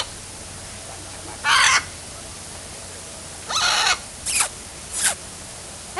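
Macaws at Disney's Animal Kingdom give four harsh, loud squawks spaced a second or so apart, with a short gap before the last two.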